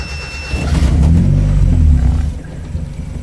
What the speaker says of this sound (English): So let's get the car started. I've set it to 3000 RPM.